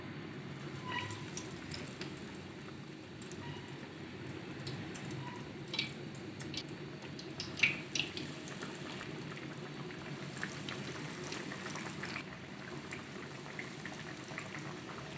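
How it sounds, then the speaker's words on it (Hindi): Potato donuts fry in hot oil in a wok, a steady, soft bubbling sizzle that continues evenly throughout with occasional faint pops, close by and without talk. "अच्छी तरह से फ्राई कर लेंगे।"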